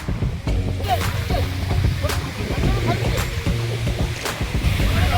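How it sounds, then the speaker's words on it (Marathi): A fishing boat engine drones steadily while heading out to deep sea, water splashing and rushing along the hull, loud and close. "आता मंडळी आपली बोट चालली आहे खोल समुद्रामध्ये"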